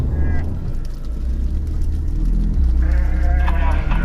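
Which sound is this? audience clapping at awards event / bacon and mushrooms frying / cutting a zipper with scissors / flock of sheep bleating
flock of sheep bleating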